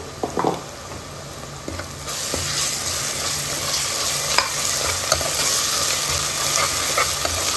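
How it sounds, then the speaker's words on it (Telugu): Onions frying in a pan with ginger garlic paste, for a goat head curry, give a steady close sizzle with stirring scrapes, louder after the first two seconds. "కొంచెం అల్లం వెల్లుల్లి పేస్ట్ వేసుకున్నాను ఉల్లిపాయల్లో"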